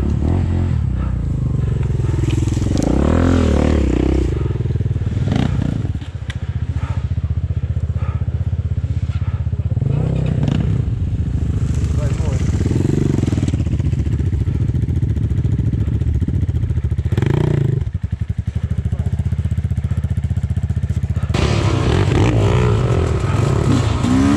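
Sherco SE 300 dirt bike on a cross-country race course, its engine loud and close throughout, revving and rising and falling through gear changes with clattering mechanical noise.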